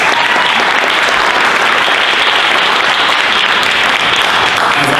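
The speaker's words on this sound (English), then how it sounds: "So if we can give them a round of applause," Loud, dense audience applause for the West Covina Rotary Club, a steady wash of many hands clapping that holds evenly throughout with no voices on top.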